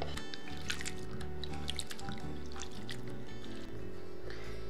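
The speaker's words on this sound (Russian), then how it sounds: "После чего хорошо промыть в холодной воде." Soft splashing and dripping of cold water with squishy handling sounds as grated potato is rinsed, close by, continuous and fairly quiet, no speech.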